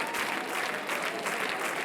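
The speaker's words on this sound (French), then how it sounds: "On applaudit Luc évidemment" Television studio audience applauding a departing contestant, a steady, dense wash of clapping from many hands, moderate in level and uninterrupted.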